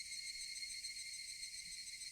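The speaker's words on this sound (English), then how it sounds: "oh yes, the cicadas are starting." Cicadas drone in a Higurashi When They Cry game, a steady, shrill, unbroken buzzing chorus that holds level throughout with nothing else over it.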